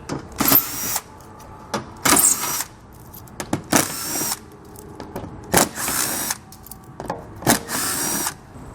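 Loud pneumatic ratchet or power-tool bursts remove fasteners from the underbody of a 2017 Cadillac CTS, about eight short whirring runs spaced by brief pauses, close up with no talking.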